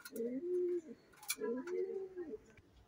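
Pigeons at a pigeon farm give two low, rolling coos in succession, close and clear, with faint chirps and small background noises between them.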